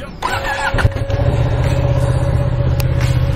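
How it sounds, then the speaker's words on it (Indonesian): A Ducati L-twin Superquattro motorcycle engine with a stock exhaust starts and settles into a steady, throaty idle close by, with a brief blip of revs near the start. "kali ini kita bakal cek sound suara L-Twin Super Quattro di motor ini seperti apa suaranya ya."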